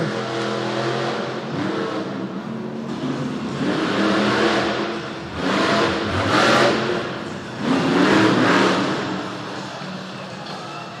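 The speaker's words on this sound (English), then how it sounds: "drivers need to fire their engine and head to the starting line" Monster truck engines rev loudly at the race start of a Monster Jam event in Edmonton, a continuous roaring drone that swells in repeated surges over crowd and arena noise.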